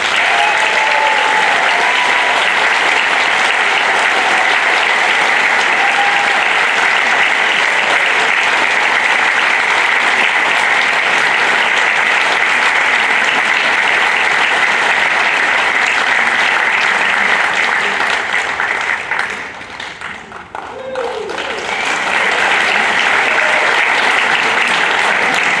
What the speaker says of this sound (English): Let's hear it for Leo Reddy.